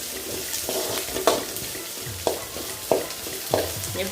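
Onions sauté in a pan with a soft steady sizzle, broken by several distinct scraping stir strokes at irregular intervals, fairly quiet and close with no voices.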